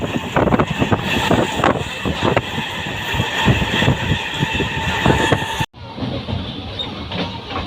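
A local train runs on the line from Bardhaman toward Bolpur Shantiniketan, rumbling with rhythmic wheel clatter and rushing wind heard from inside a carriage, then cutting abruptly to quieter cabin noise.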